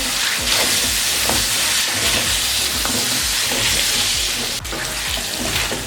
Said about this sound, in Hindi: अब अच्छे से 3 से 4 मिनट के लिए इसको भून लेंगे।